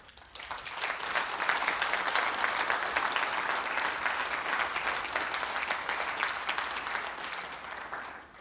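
An audience at a company AGM applauds in a steady, sustained wash of many hands clapping, fairly faint and heard alone, swelling in and tapering off over about eight seconds.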